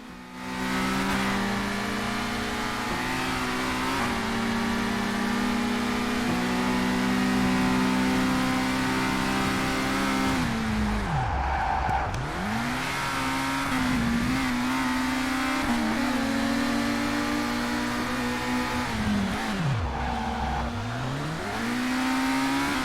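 Race car engines roar in the PC racing game Tucker Race Driver, a loud continuous revving drone that rises in pitch, then dips sharply twice during gear changes or braking before climbing again.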